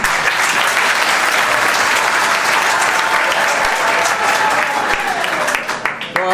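Students clap together in a hall, sustained and dense applause that thins and breaks up into scattered claps near the end.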